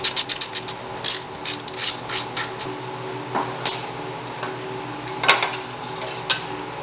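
A ratchet clicks in quick bursts while removing the chain guard from a Honda Rebel 250 (CMX250C) motorcycle, with sharp metallic pawl ticks in short runs separated by pauses and a faint mechanical hum underneath.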